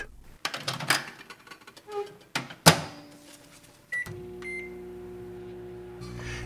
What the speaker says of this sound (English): An electric discharge between the grapes creates the plasma.